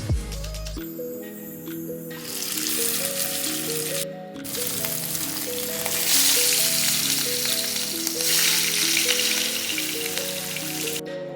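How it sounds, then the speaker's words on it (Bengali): Marinated katla fish pieces fry in hot mustard oil, giving a loud, dense, crackling sizzle that swells after the fish goes in and holds steady, with music playing underneath throughout. "এবার ম্যারিনেট করে রাখা মাছটা এতে ভাজার জন্য দিয়ে দেবো।"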